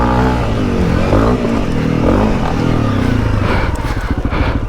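A KTM 890 Adventure R or Honda CRF 300 L motorcycle rides on a track, its engine a loud, close, continuous growl that rises and falls in pitch with the throttle over a few seconds, with no voices.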